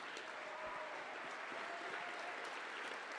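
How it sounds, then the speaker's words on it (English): A conference audience at a closing ceremony claps in dense, sustained applause that fills the room evenly from start to finish, with no break in the sound. "Please give them a round of applause."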